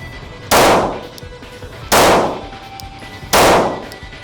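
Three sharp pistol shots fired at a target, evenly spaced about 1.4 seconds apart, each a loud close crack with a short ringing decay, no talk.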